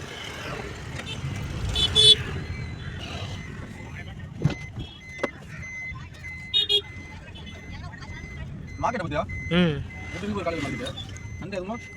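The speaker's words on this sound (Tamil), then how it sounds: "அண்ணன் காரை மூவ் பண்ணுறாப்புல" A car is moved on a busy Chennai beach road, with reversing beeps and engine noise sounding intermittently amid crowd babble and people talking nearby.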